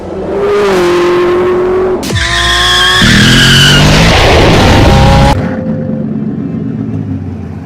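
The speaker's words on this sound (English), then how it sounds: "The Bugatti Supersport 300." A Bugatti Super Sport 300 roars past at high speed, its loud engine note rising and shifting as tires squeal, dominant and continuous throughout.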